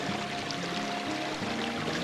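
Water runs steadily at a woodland spring, a continuous close rushing flow with no pauses, outdoors on a warm day.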